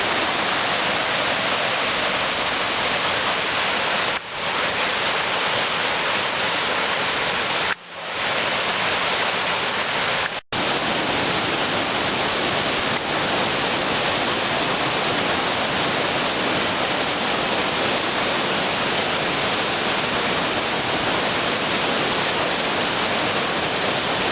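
Steady, full rushing water fills the whole clip, a constant broad roar of the Zhenets mountain river flowing beneath a small footbridge, with a few brief dropouts.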